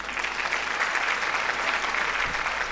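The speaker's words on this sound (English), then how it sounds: "Don't you think we need a big round of applause for that?" Steady applause from an audience at a women-led development conclave in a Guwahati hotel hall, a dense even wash of clapping lasting the whole stretch with no pauses.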